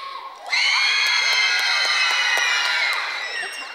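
A conference audience cheers and shouts loudly for an applause meter contest, a dense sustained roar of whoops and voices that swells suddenly, holds steady, then eases slightly toward the end.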